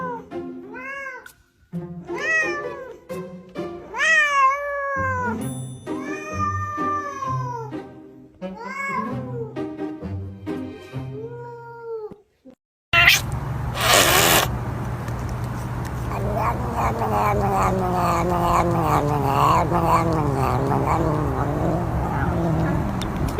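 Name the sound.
cat meowing and caterwauling outside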